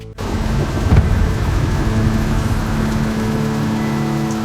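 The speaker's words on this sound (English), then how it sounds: "Rain beat rooftops. Lightning danced." Heavy, continuous rain hisses steadily while a low rumble of thunder rolls underneath, loud and enveloping.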